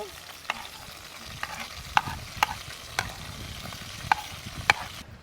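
Onion and garlic frying with pork leg in a little oil, a low steady sizzle punctuated by several sharp clicks and taps of a utensil against the pan.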